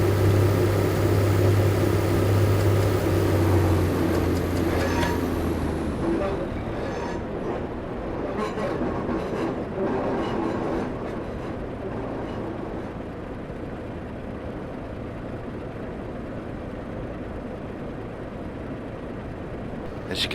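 Class 142 Pacer diesel train in Train Simulator 2015 on the Darlington to Middlesbrough route, engine droning then settling to a lower coasting rumble with rail noise, steady throughout, a tonal hum fading early on.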